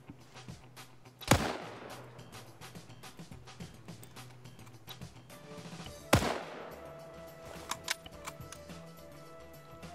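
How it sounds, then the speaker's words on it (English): Gunfire in a multiplayer PvP match, Japanese versus Cartels in an embassy rescue scenario: two sharp, loud shots about five seconds apart over a steady, busy battlefield ambience, with no talking. "He's trying to shoot some of the people down there."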